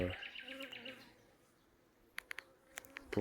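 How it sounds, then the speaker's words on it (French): Buzzing of honeybees at a populous hive fills the first second, then fades to quiet background with a few sharp ticks and clicks near the end. "elle est très populeuse, il y a beaucoup d'abeilles"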